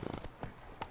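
The horse Roach trots on a road in The Witcher 3, a quick, even clip-clop of hooves at moderate volume with a faint game backdrop.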